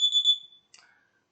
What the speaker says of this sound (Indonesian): ketika alat dinyalakan, maka akan memberikan indikator buzzer yang berbunyi, kemudian LED aktif